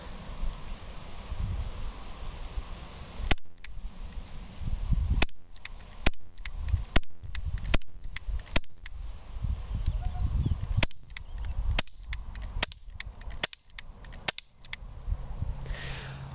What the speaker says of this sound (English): I'm going to be shooting at the centre so we can see what the grouping's like